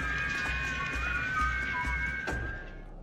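Several people whistle together for freedom in Cuba, sustained overlapping high whistles with a low, rhythmic background pulse beneath them, heard from some distance.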